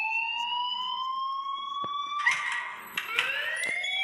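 A fire alarm rings steadily in the Life is Strange video game, its sustained electronic tones continuous and loud, with some sliding pitch shifts and brief clicks partway through.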